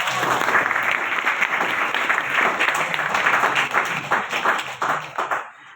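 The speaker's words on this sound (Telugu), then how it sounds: "వీళ్ళందరికీ ఒకసారి గట్టిగా క్లాప్స్ ఇద్దాం" An audience claps together in a sustained, dense burst of applause that stays loud and steady for several seconds before fading out near the end.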